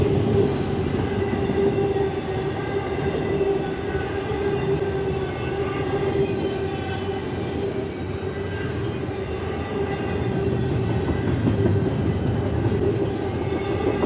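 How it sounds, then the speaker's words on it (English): A passing train grinds and screeches its brakes while slowing to a stop, a steady loud metallic squeal with layered high tones over rumbling wheels, continuous and close throughout. "You hear the brakes screeching? I believe it's going to come to a stop."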